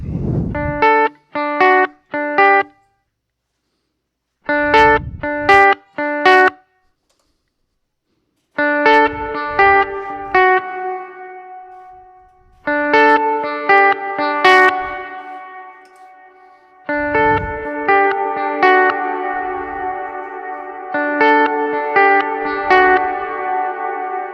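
Electric guitar chords and arpeggios through a Strymon Flint reverb pedal ring out with lush, bright reverb and echo, phrases separated by short silences, notes trailing and shimmering as they decay.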